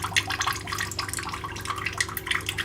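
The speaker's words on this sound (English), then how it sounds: "I'm going to turn their water on." A kitchen water tap runs for cats to drink from, a close continuous splashing patter over a low steady hum, with no one speaking.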